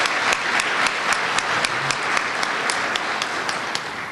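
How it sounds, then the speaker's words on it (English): Audience applause at a Georgia health care association winter convention, a broad, sustained wash of many hands clapping with a few sharper claps standing out. "You should applaud yourselves for that."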